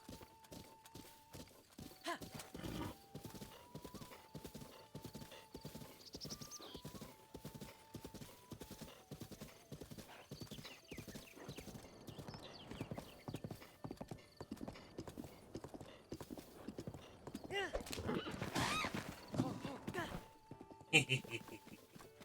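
Continuous horse hooves clopping along in The Legend of Zelda: Breath of the Wild, with faint background music tones and a brief louder burst near the end.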